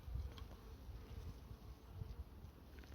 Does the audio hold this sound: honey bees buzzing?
yes